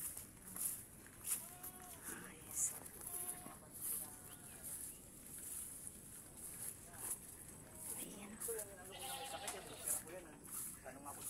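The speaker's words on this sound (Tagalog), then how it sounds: "Yung mga kambing ni Sir, ang cute, oh." Goats bleat again and again on a goat farm, mixed with footsteps and close, steady talk from visitors, in a busy outdoor setting.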